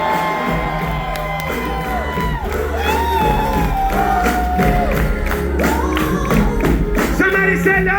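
A loud crowd at a hip-hop concert at The Icehouse cheers, whoops and shouts continuously over music, the noise swelling midway and staying strong.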